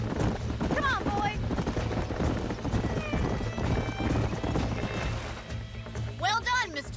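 Horses in the Western game Red Dead Redemption, with hooves clopping and a whinny or two mixed into a busy ranch scene, steady background music and people talking throughout.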